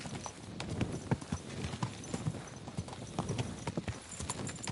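Horse hooves clip-clopping in Kingdom Come: Deliverance II, a steady walking rhythm of close, distinct hoof strikes throughout.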